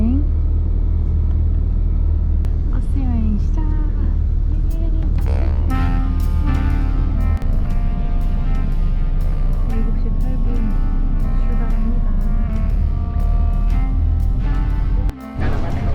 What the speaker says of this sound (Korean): 저녁 7시 8분쯤 버스가 출발했습니다.